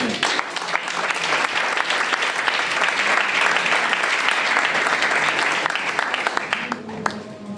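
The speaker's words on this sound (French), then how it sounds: "Une acclamation à Jésus." A church congregation claps and cheers for Jesus in a sustained burst of applause that swells, then thins toward the end, with voices mixed in.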